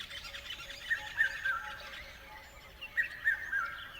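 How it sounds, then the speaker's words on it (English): Birds sing in short, faint chirping phrases: two clusters of high tweets separated by a pause, alone and with no talk. "They're birds singing."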